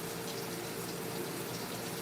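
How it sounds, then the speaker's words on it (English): Tap water running steadily into a kitchen sink while a cup is rinsed under it, a continuous soft hiss and gurgle with no speech. "Still washing the cup out with fresh water, not in a little bucket."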